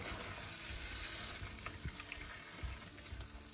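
Chicken fries with masala, yogurt and lemon in a pan, a loud, dense sizzle right up close that eases slightly midway, with occasional stirring bumps and no talking.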